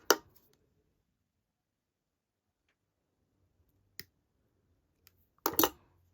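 Beading wire for seed-bead earrings is snipped with cutters in a quiet room: a sharp click at the start, a lone tick a few seconds later, then a quick cluster of crisp snaps near the end.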